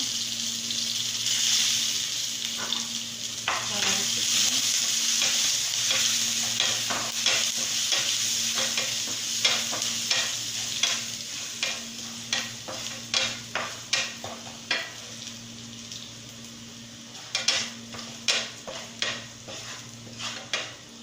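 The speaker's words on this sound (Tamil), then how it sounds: "நல்லா வறுபட்டதோட கருவேப்பிலை கொத்தமல்லி." Crushed pepper, cumin, grated ginger and garlic and a dried red chilli fry in a pan, sizzling steadily while a spoon stirs and scrapes in quick repeated strokes, close and loud, with no talking.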